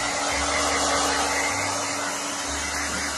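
A hair dryer runs steadily while drying a dog after a bath during a pampering session, a constant close whirring roar with slight shifts in pitch as the airflow moves, with no talking.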